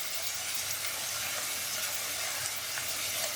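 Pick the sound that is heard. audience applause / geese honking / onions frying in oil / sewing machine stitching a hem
onions frying in oil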